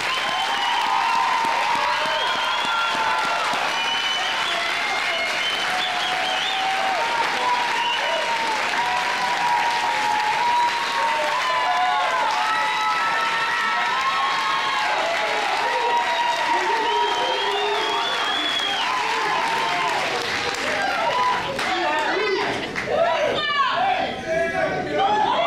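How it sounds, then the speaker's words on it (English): A graduation audience at a 2010 EMS summer ceremony gives a long, sustained round of applause, a thick wash of clapping with crowd chatter and voices mixed underneath throughout. "I think we do owe them another round of applause"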